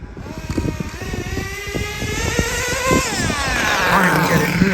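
Hobao Hyper VT nitro GT RC car driving at near full power, its small engine buzzing and whining higher as it speeds up, with rattly pulses early on and then a sustained loud scream.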